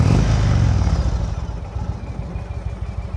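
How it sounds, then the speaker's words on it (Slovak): Indian Chief Dark Horse 2018 low-revving V-twin motorcycle engine, a close, loud deep rumble that settles into an uneven, loping pulsing idle beat. "Je to taký nízkootáčkový V-twin, nádherný zvuk."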